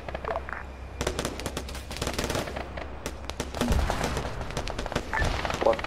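Rapid automatic gunfire crackles in a military video game, with dense overlapping bursts of bullets and a low rumble from an engaged tank, continuous and fairly loud throughout.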